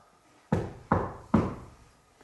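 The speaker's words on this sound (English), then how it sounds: "Can you knock?" Three firm knocks land on a door inside an old guild hall, evenly spaced and close by, each with a short hollow ring-out in a quiet room.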